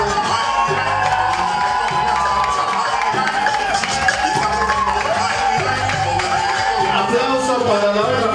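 A crowd at a cumbia and guaracha dance contest in Brooklyn claps and cheers for the first dancing couple, steady applause with whoops continuing under loud music.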